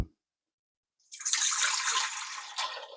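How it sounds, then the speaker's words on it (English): After a second of silence, room-temperature water starts pouring into a mixing bowl for deep-dish pizza dough in a steady splashing stream, bright and close, continuing to the end. "we have to add our room temperature water"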